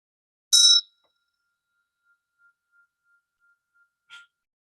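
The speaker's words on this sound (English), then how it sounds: "Just going to get the magic bell." A meditation bell struck once, opening a dharma talk: a bright ringing strike followed by a long, quiet, fading hum, then a second softer ring near the end.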